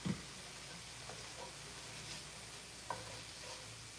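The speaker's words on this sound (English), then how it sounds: "I just wanna kind of cook the spices, just to kind of help bloom the spices." Cumin and spices sizzle softly in a pan, a faint steady frying hiss with a couple of small clicks from stirring, heard alone without talk.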